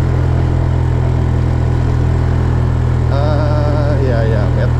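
A Honda Beat scooter strains up a steep hill road, its engine holding a loud, constant drone with steady wind noise and no clear drop in pitch.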